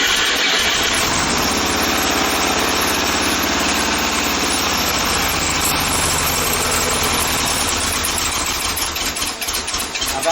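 A VW engine freshly fitted with a rebuilt carburetor runs loud and close in a workshop, a continuous rough, pulsing drone that holds steady throughout and wavers slightly near the end.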